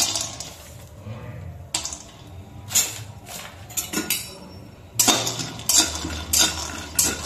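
Raw store-bought peanuts rattle and clink against a kadai over a low flame, with irregular close clattering bursts and quieter gaps between stirs.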